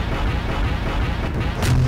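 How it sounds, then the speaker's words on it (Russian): Air strike in Garry's Mod, a rapid rumbling barrage of heavy booms thudding continuously through the game's soundscape, loud and dense with deep low-end impacts. "А давайте этот воздушный удар попробуем жахнуть вот по ним."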